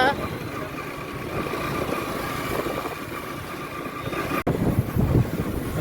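A motorcycle ride gives a steady low engine rumble with wind buffeting the microphone, heard under people talking, with a brief cut near the end.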